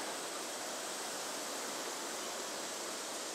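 Creek flowing beneath a bridge, a steady broadband rush of water heard from above, even and unbroken throughout with no voices.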